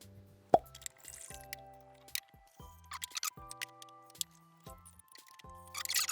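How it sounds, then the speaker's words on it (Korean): Fermented alcohol and purified water poured into a container, heard as a series of distinct close plops and liquid trickles, with gurgling tonal notes between them. Fairly quiet, with no speech. "발효주정 600에 물 780 정도 넣어볼게요"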